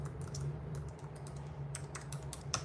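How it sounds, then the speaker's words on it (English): Quick, close bursts of key presses on a computer keyboard, clattering in uneven runs over a steady low electrical hum. "I wanted to type it in."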